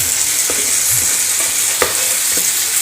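Onion and tomato masala fries in a pan for a chicken biryani, with a steady loud sizzle and a few scraping stirs of a spoon at irregular intervals, close up and with no talking.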